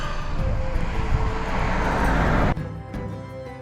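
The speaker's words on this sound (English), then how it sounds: "sitting watching for aeroplanes landing at little airports" A loud, steady roar of a propeller airplane landing nearby at a small Orkney airport, which cuts off abruptly, leaving a quieter engine hum.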